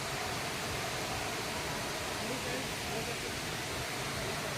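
A step waterfall at Rampa falls, steady broadband rushing of flowing water, constant and uniform, moderately distant and soft, with no other distinct sounds.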